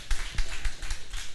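Church congregation clapping in a steady rhythmic beat, about five evenly spaced claps in just over a second, fairly close and moderately loud with no talk over it.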